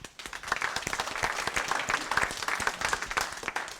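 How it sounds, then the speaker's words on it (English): An audience applauds steadily at a product demo session, with dense, moderately close hand claps carrying on for several seconds. No one speaks over it. "Everyone give him a round of applause."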